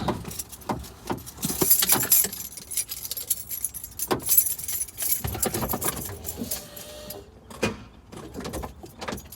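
A 1997 Ford Mustang V6 with new tie rod bushings on a test drive, heard from inside as road noise and engine hum mixed with jangling keys, rattles and cabin clatter throughout.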